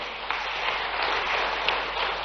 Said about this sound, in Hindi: माननीय प्रधानमंत्री जी का एक बार फिर जोरदार ताली बजा के अभिनंदन करें